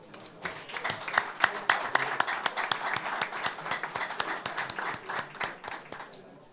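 Members of a state legislative session applaud a visiting federal deputy in the chamber. Many distinct hand claps sound close and crisp, swelling early and continuing in uneven bursts for several seconds.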